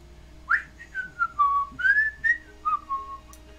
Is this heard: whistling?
yes